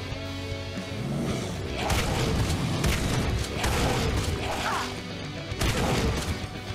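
Shotgun blasts in the first-person game Supplice, loud and heavy, with several booming shots spaced a second or two apart amid dense in-game action noise.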